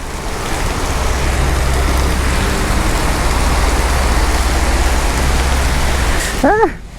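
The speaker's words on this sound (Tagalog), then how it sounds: "mas lumala yung ulan. Mas lalong lumakas." Heavy rain pours steadily in a dense, loud hiss, with a brief voice at the very end.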